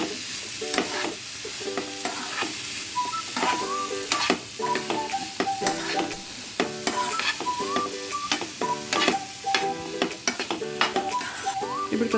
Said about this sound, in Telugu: ఇప్పుడు కట్ చేసిన పంప్కిన్స్ ఇంట్లో వేసుకుందాం. కొద్దిగా పచ్చి వాసన పోయే వరకు కలుపుకుందాం.